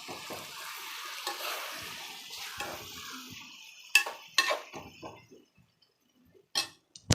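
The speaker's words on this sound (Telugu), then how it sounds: "ఇలా వాటర్ పోసుకోవాలి." Water poured into a pot of drumstick and egg curry: a short splashy pour with metallic pot clatter and knocks, close and moderately loud, followed by sparse clinks and quiet gaps.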